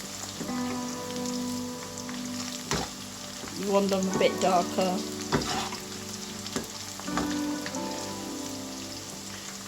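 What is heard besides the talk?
onions deep-frying in oil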